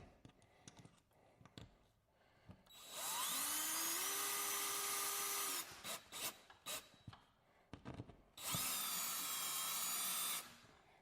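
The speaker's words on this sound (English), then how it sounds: "We're going to take our drill and we're going to go ahead and get this screwed in." A power drill driving screws whines in two long bursts, its pitch rising as it spins up, with short clicks and handling noises in between.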